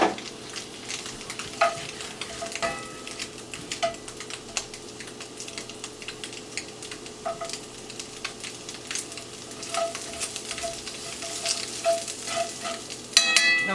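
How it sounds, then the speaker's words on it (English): Onions sautéing in the same pan just used for tofu, a steady soft sizzle with scattered crackles and pops and occasional stirring scrapes, close and moderately quiet, no talking. "the last thing I'm going to do is I'm going to saute these onions in the same pan"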